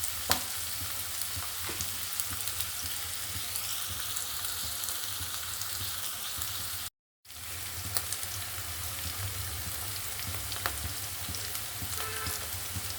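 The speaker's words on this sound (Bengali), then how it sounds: "এখন দেখি ভুনা করে দেখি কেমন হয় পেঁয়াজটা দিয়ে দিলাম কাঁচামরিচ কাটাটা দিয়ে দিলাম" Onion and green chilli fry in oil for a katla fish curry, a steady dense sizzle held at an even level for the whole stretch apart from a brief cut midway, with occasional small clicks and no talking.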